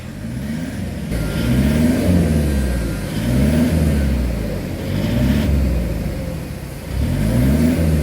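A Toyota Prado engine revs loudly and repeatedly during HHO decarbonizing, rising and falling in rhythmic waves about every two seconds up close, with no speech.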